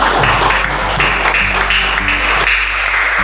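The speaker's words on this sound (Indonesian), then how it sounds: "Tepuk tangan untuk Nanda Husna" Classroom applause for a student during a school teaching-practice lesson, a steady dense patter of many hands clapping at close range that carries on throughout without a break.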